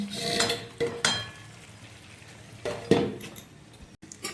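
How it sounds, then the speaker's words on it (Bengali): Metal lid lifted off a pan of chicken curry with potatoes, a few sharp clanks and scrapes of metal on metal over a low background sizzle. "এখন আমি ঢাকা খুলে দেখে নেবো ঠিকঠাক কষিয়েছি কিনা"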